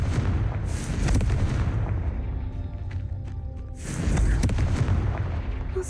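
Confringo fire spell blasts in the video game Hogwarts Legacy: loud booming explosions at the start and again near the end, with a rumbling, crackling tail between them.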